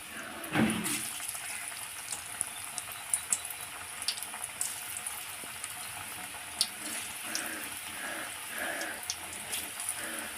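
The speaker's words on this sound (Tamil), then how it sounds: "ஒரு கடாயில் எண்ணெய் சூடு பண்ணி வச்சுருக்கிறேன் இப்படி போட்டுக்கலாம் கொஞ்சம் கொஞ்சமாக" Pieces of beetroot 65 fry in hot oil in a kadai, giving a steady close sizzle dotted with small sharp pops and crackles as more pieces are added.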